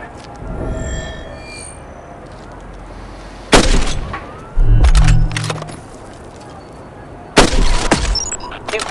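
Sniper rifle shots ring out in the mobile game Hitman Sniper, a few separate loud cracks spaced several seconds apart over a low ambient bed.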